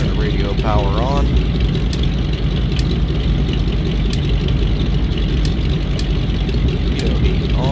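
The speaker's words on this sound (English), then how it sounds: "Now, this airplane takes a long time to warm up, about 10 full minutes." A de Havilland Beaver floatplane's propeller engine idles through a cold-start warm-up, a loud, steady, droning rumble that fills the whole clip. Brief voice fragments are heard over it.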